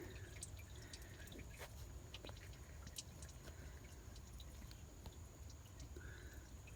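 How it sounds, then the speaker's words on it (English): Engine oil drains from a GMC Acadia during an oil change into a pan underneath, a steady faint trickle with scattered drips over a constant low background, no talking. "Let it drain into the pan underneath."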